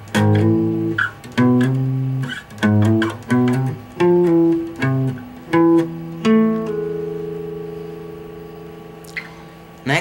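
An acoustic guitar plays a short picked melody with sliding notes, then lets a final note ring out and fade.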